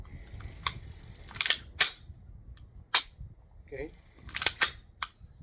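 Tanfoglio FT9 Force .380 pistol dry-fire function check: a series of sharp, close mechanical clicks and snaps of trigger and reset in irregular rhythm, with a brief spoken word.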